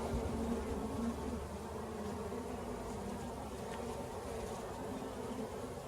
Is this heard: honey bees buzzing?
yes